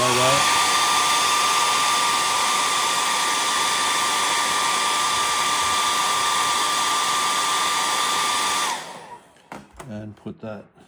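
A hair dryer drying paint on a hand-carved cedar waxwing bird whirs in a loud, steady whine for most of the clip, then cuts off, leaving a few soft handling sounds.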